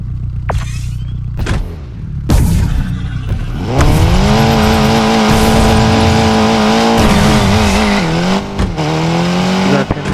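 A loud revving engine climbs and holds in pitch like a racing motorbike in the Android game Need for Speed mobile, with sharp bursts and skids at the start, closely recorded.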